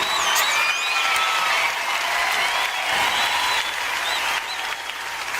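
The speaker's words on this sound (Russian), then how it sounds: "Аплодисменты где?" Applause from a crowd during a World of Tanks game stream, a steady dense clapping that fades slightly toward the end, with no talk over it.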